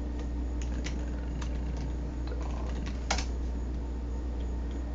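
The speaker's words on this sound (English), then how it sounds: "Type in like half of the word." Typing on a computer keyboard while searching an item database, a run of light, irregular key clicks with one sharper cluster of taps, close by over a low steady hum.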